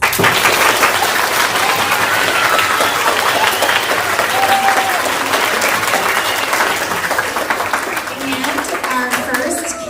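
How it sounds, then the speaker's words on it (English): An elementary school audience applauds at a speech contest, dense and sustained clapping from a room full of people that tapers slightly toward the end, with faint voices under it. "Audience, let's encourage them with our applause."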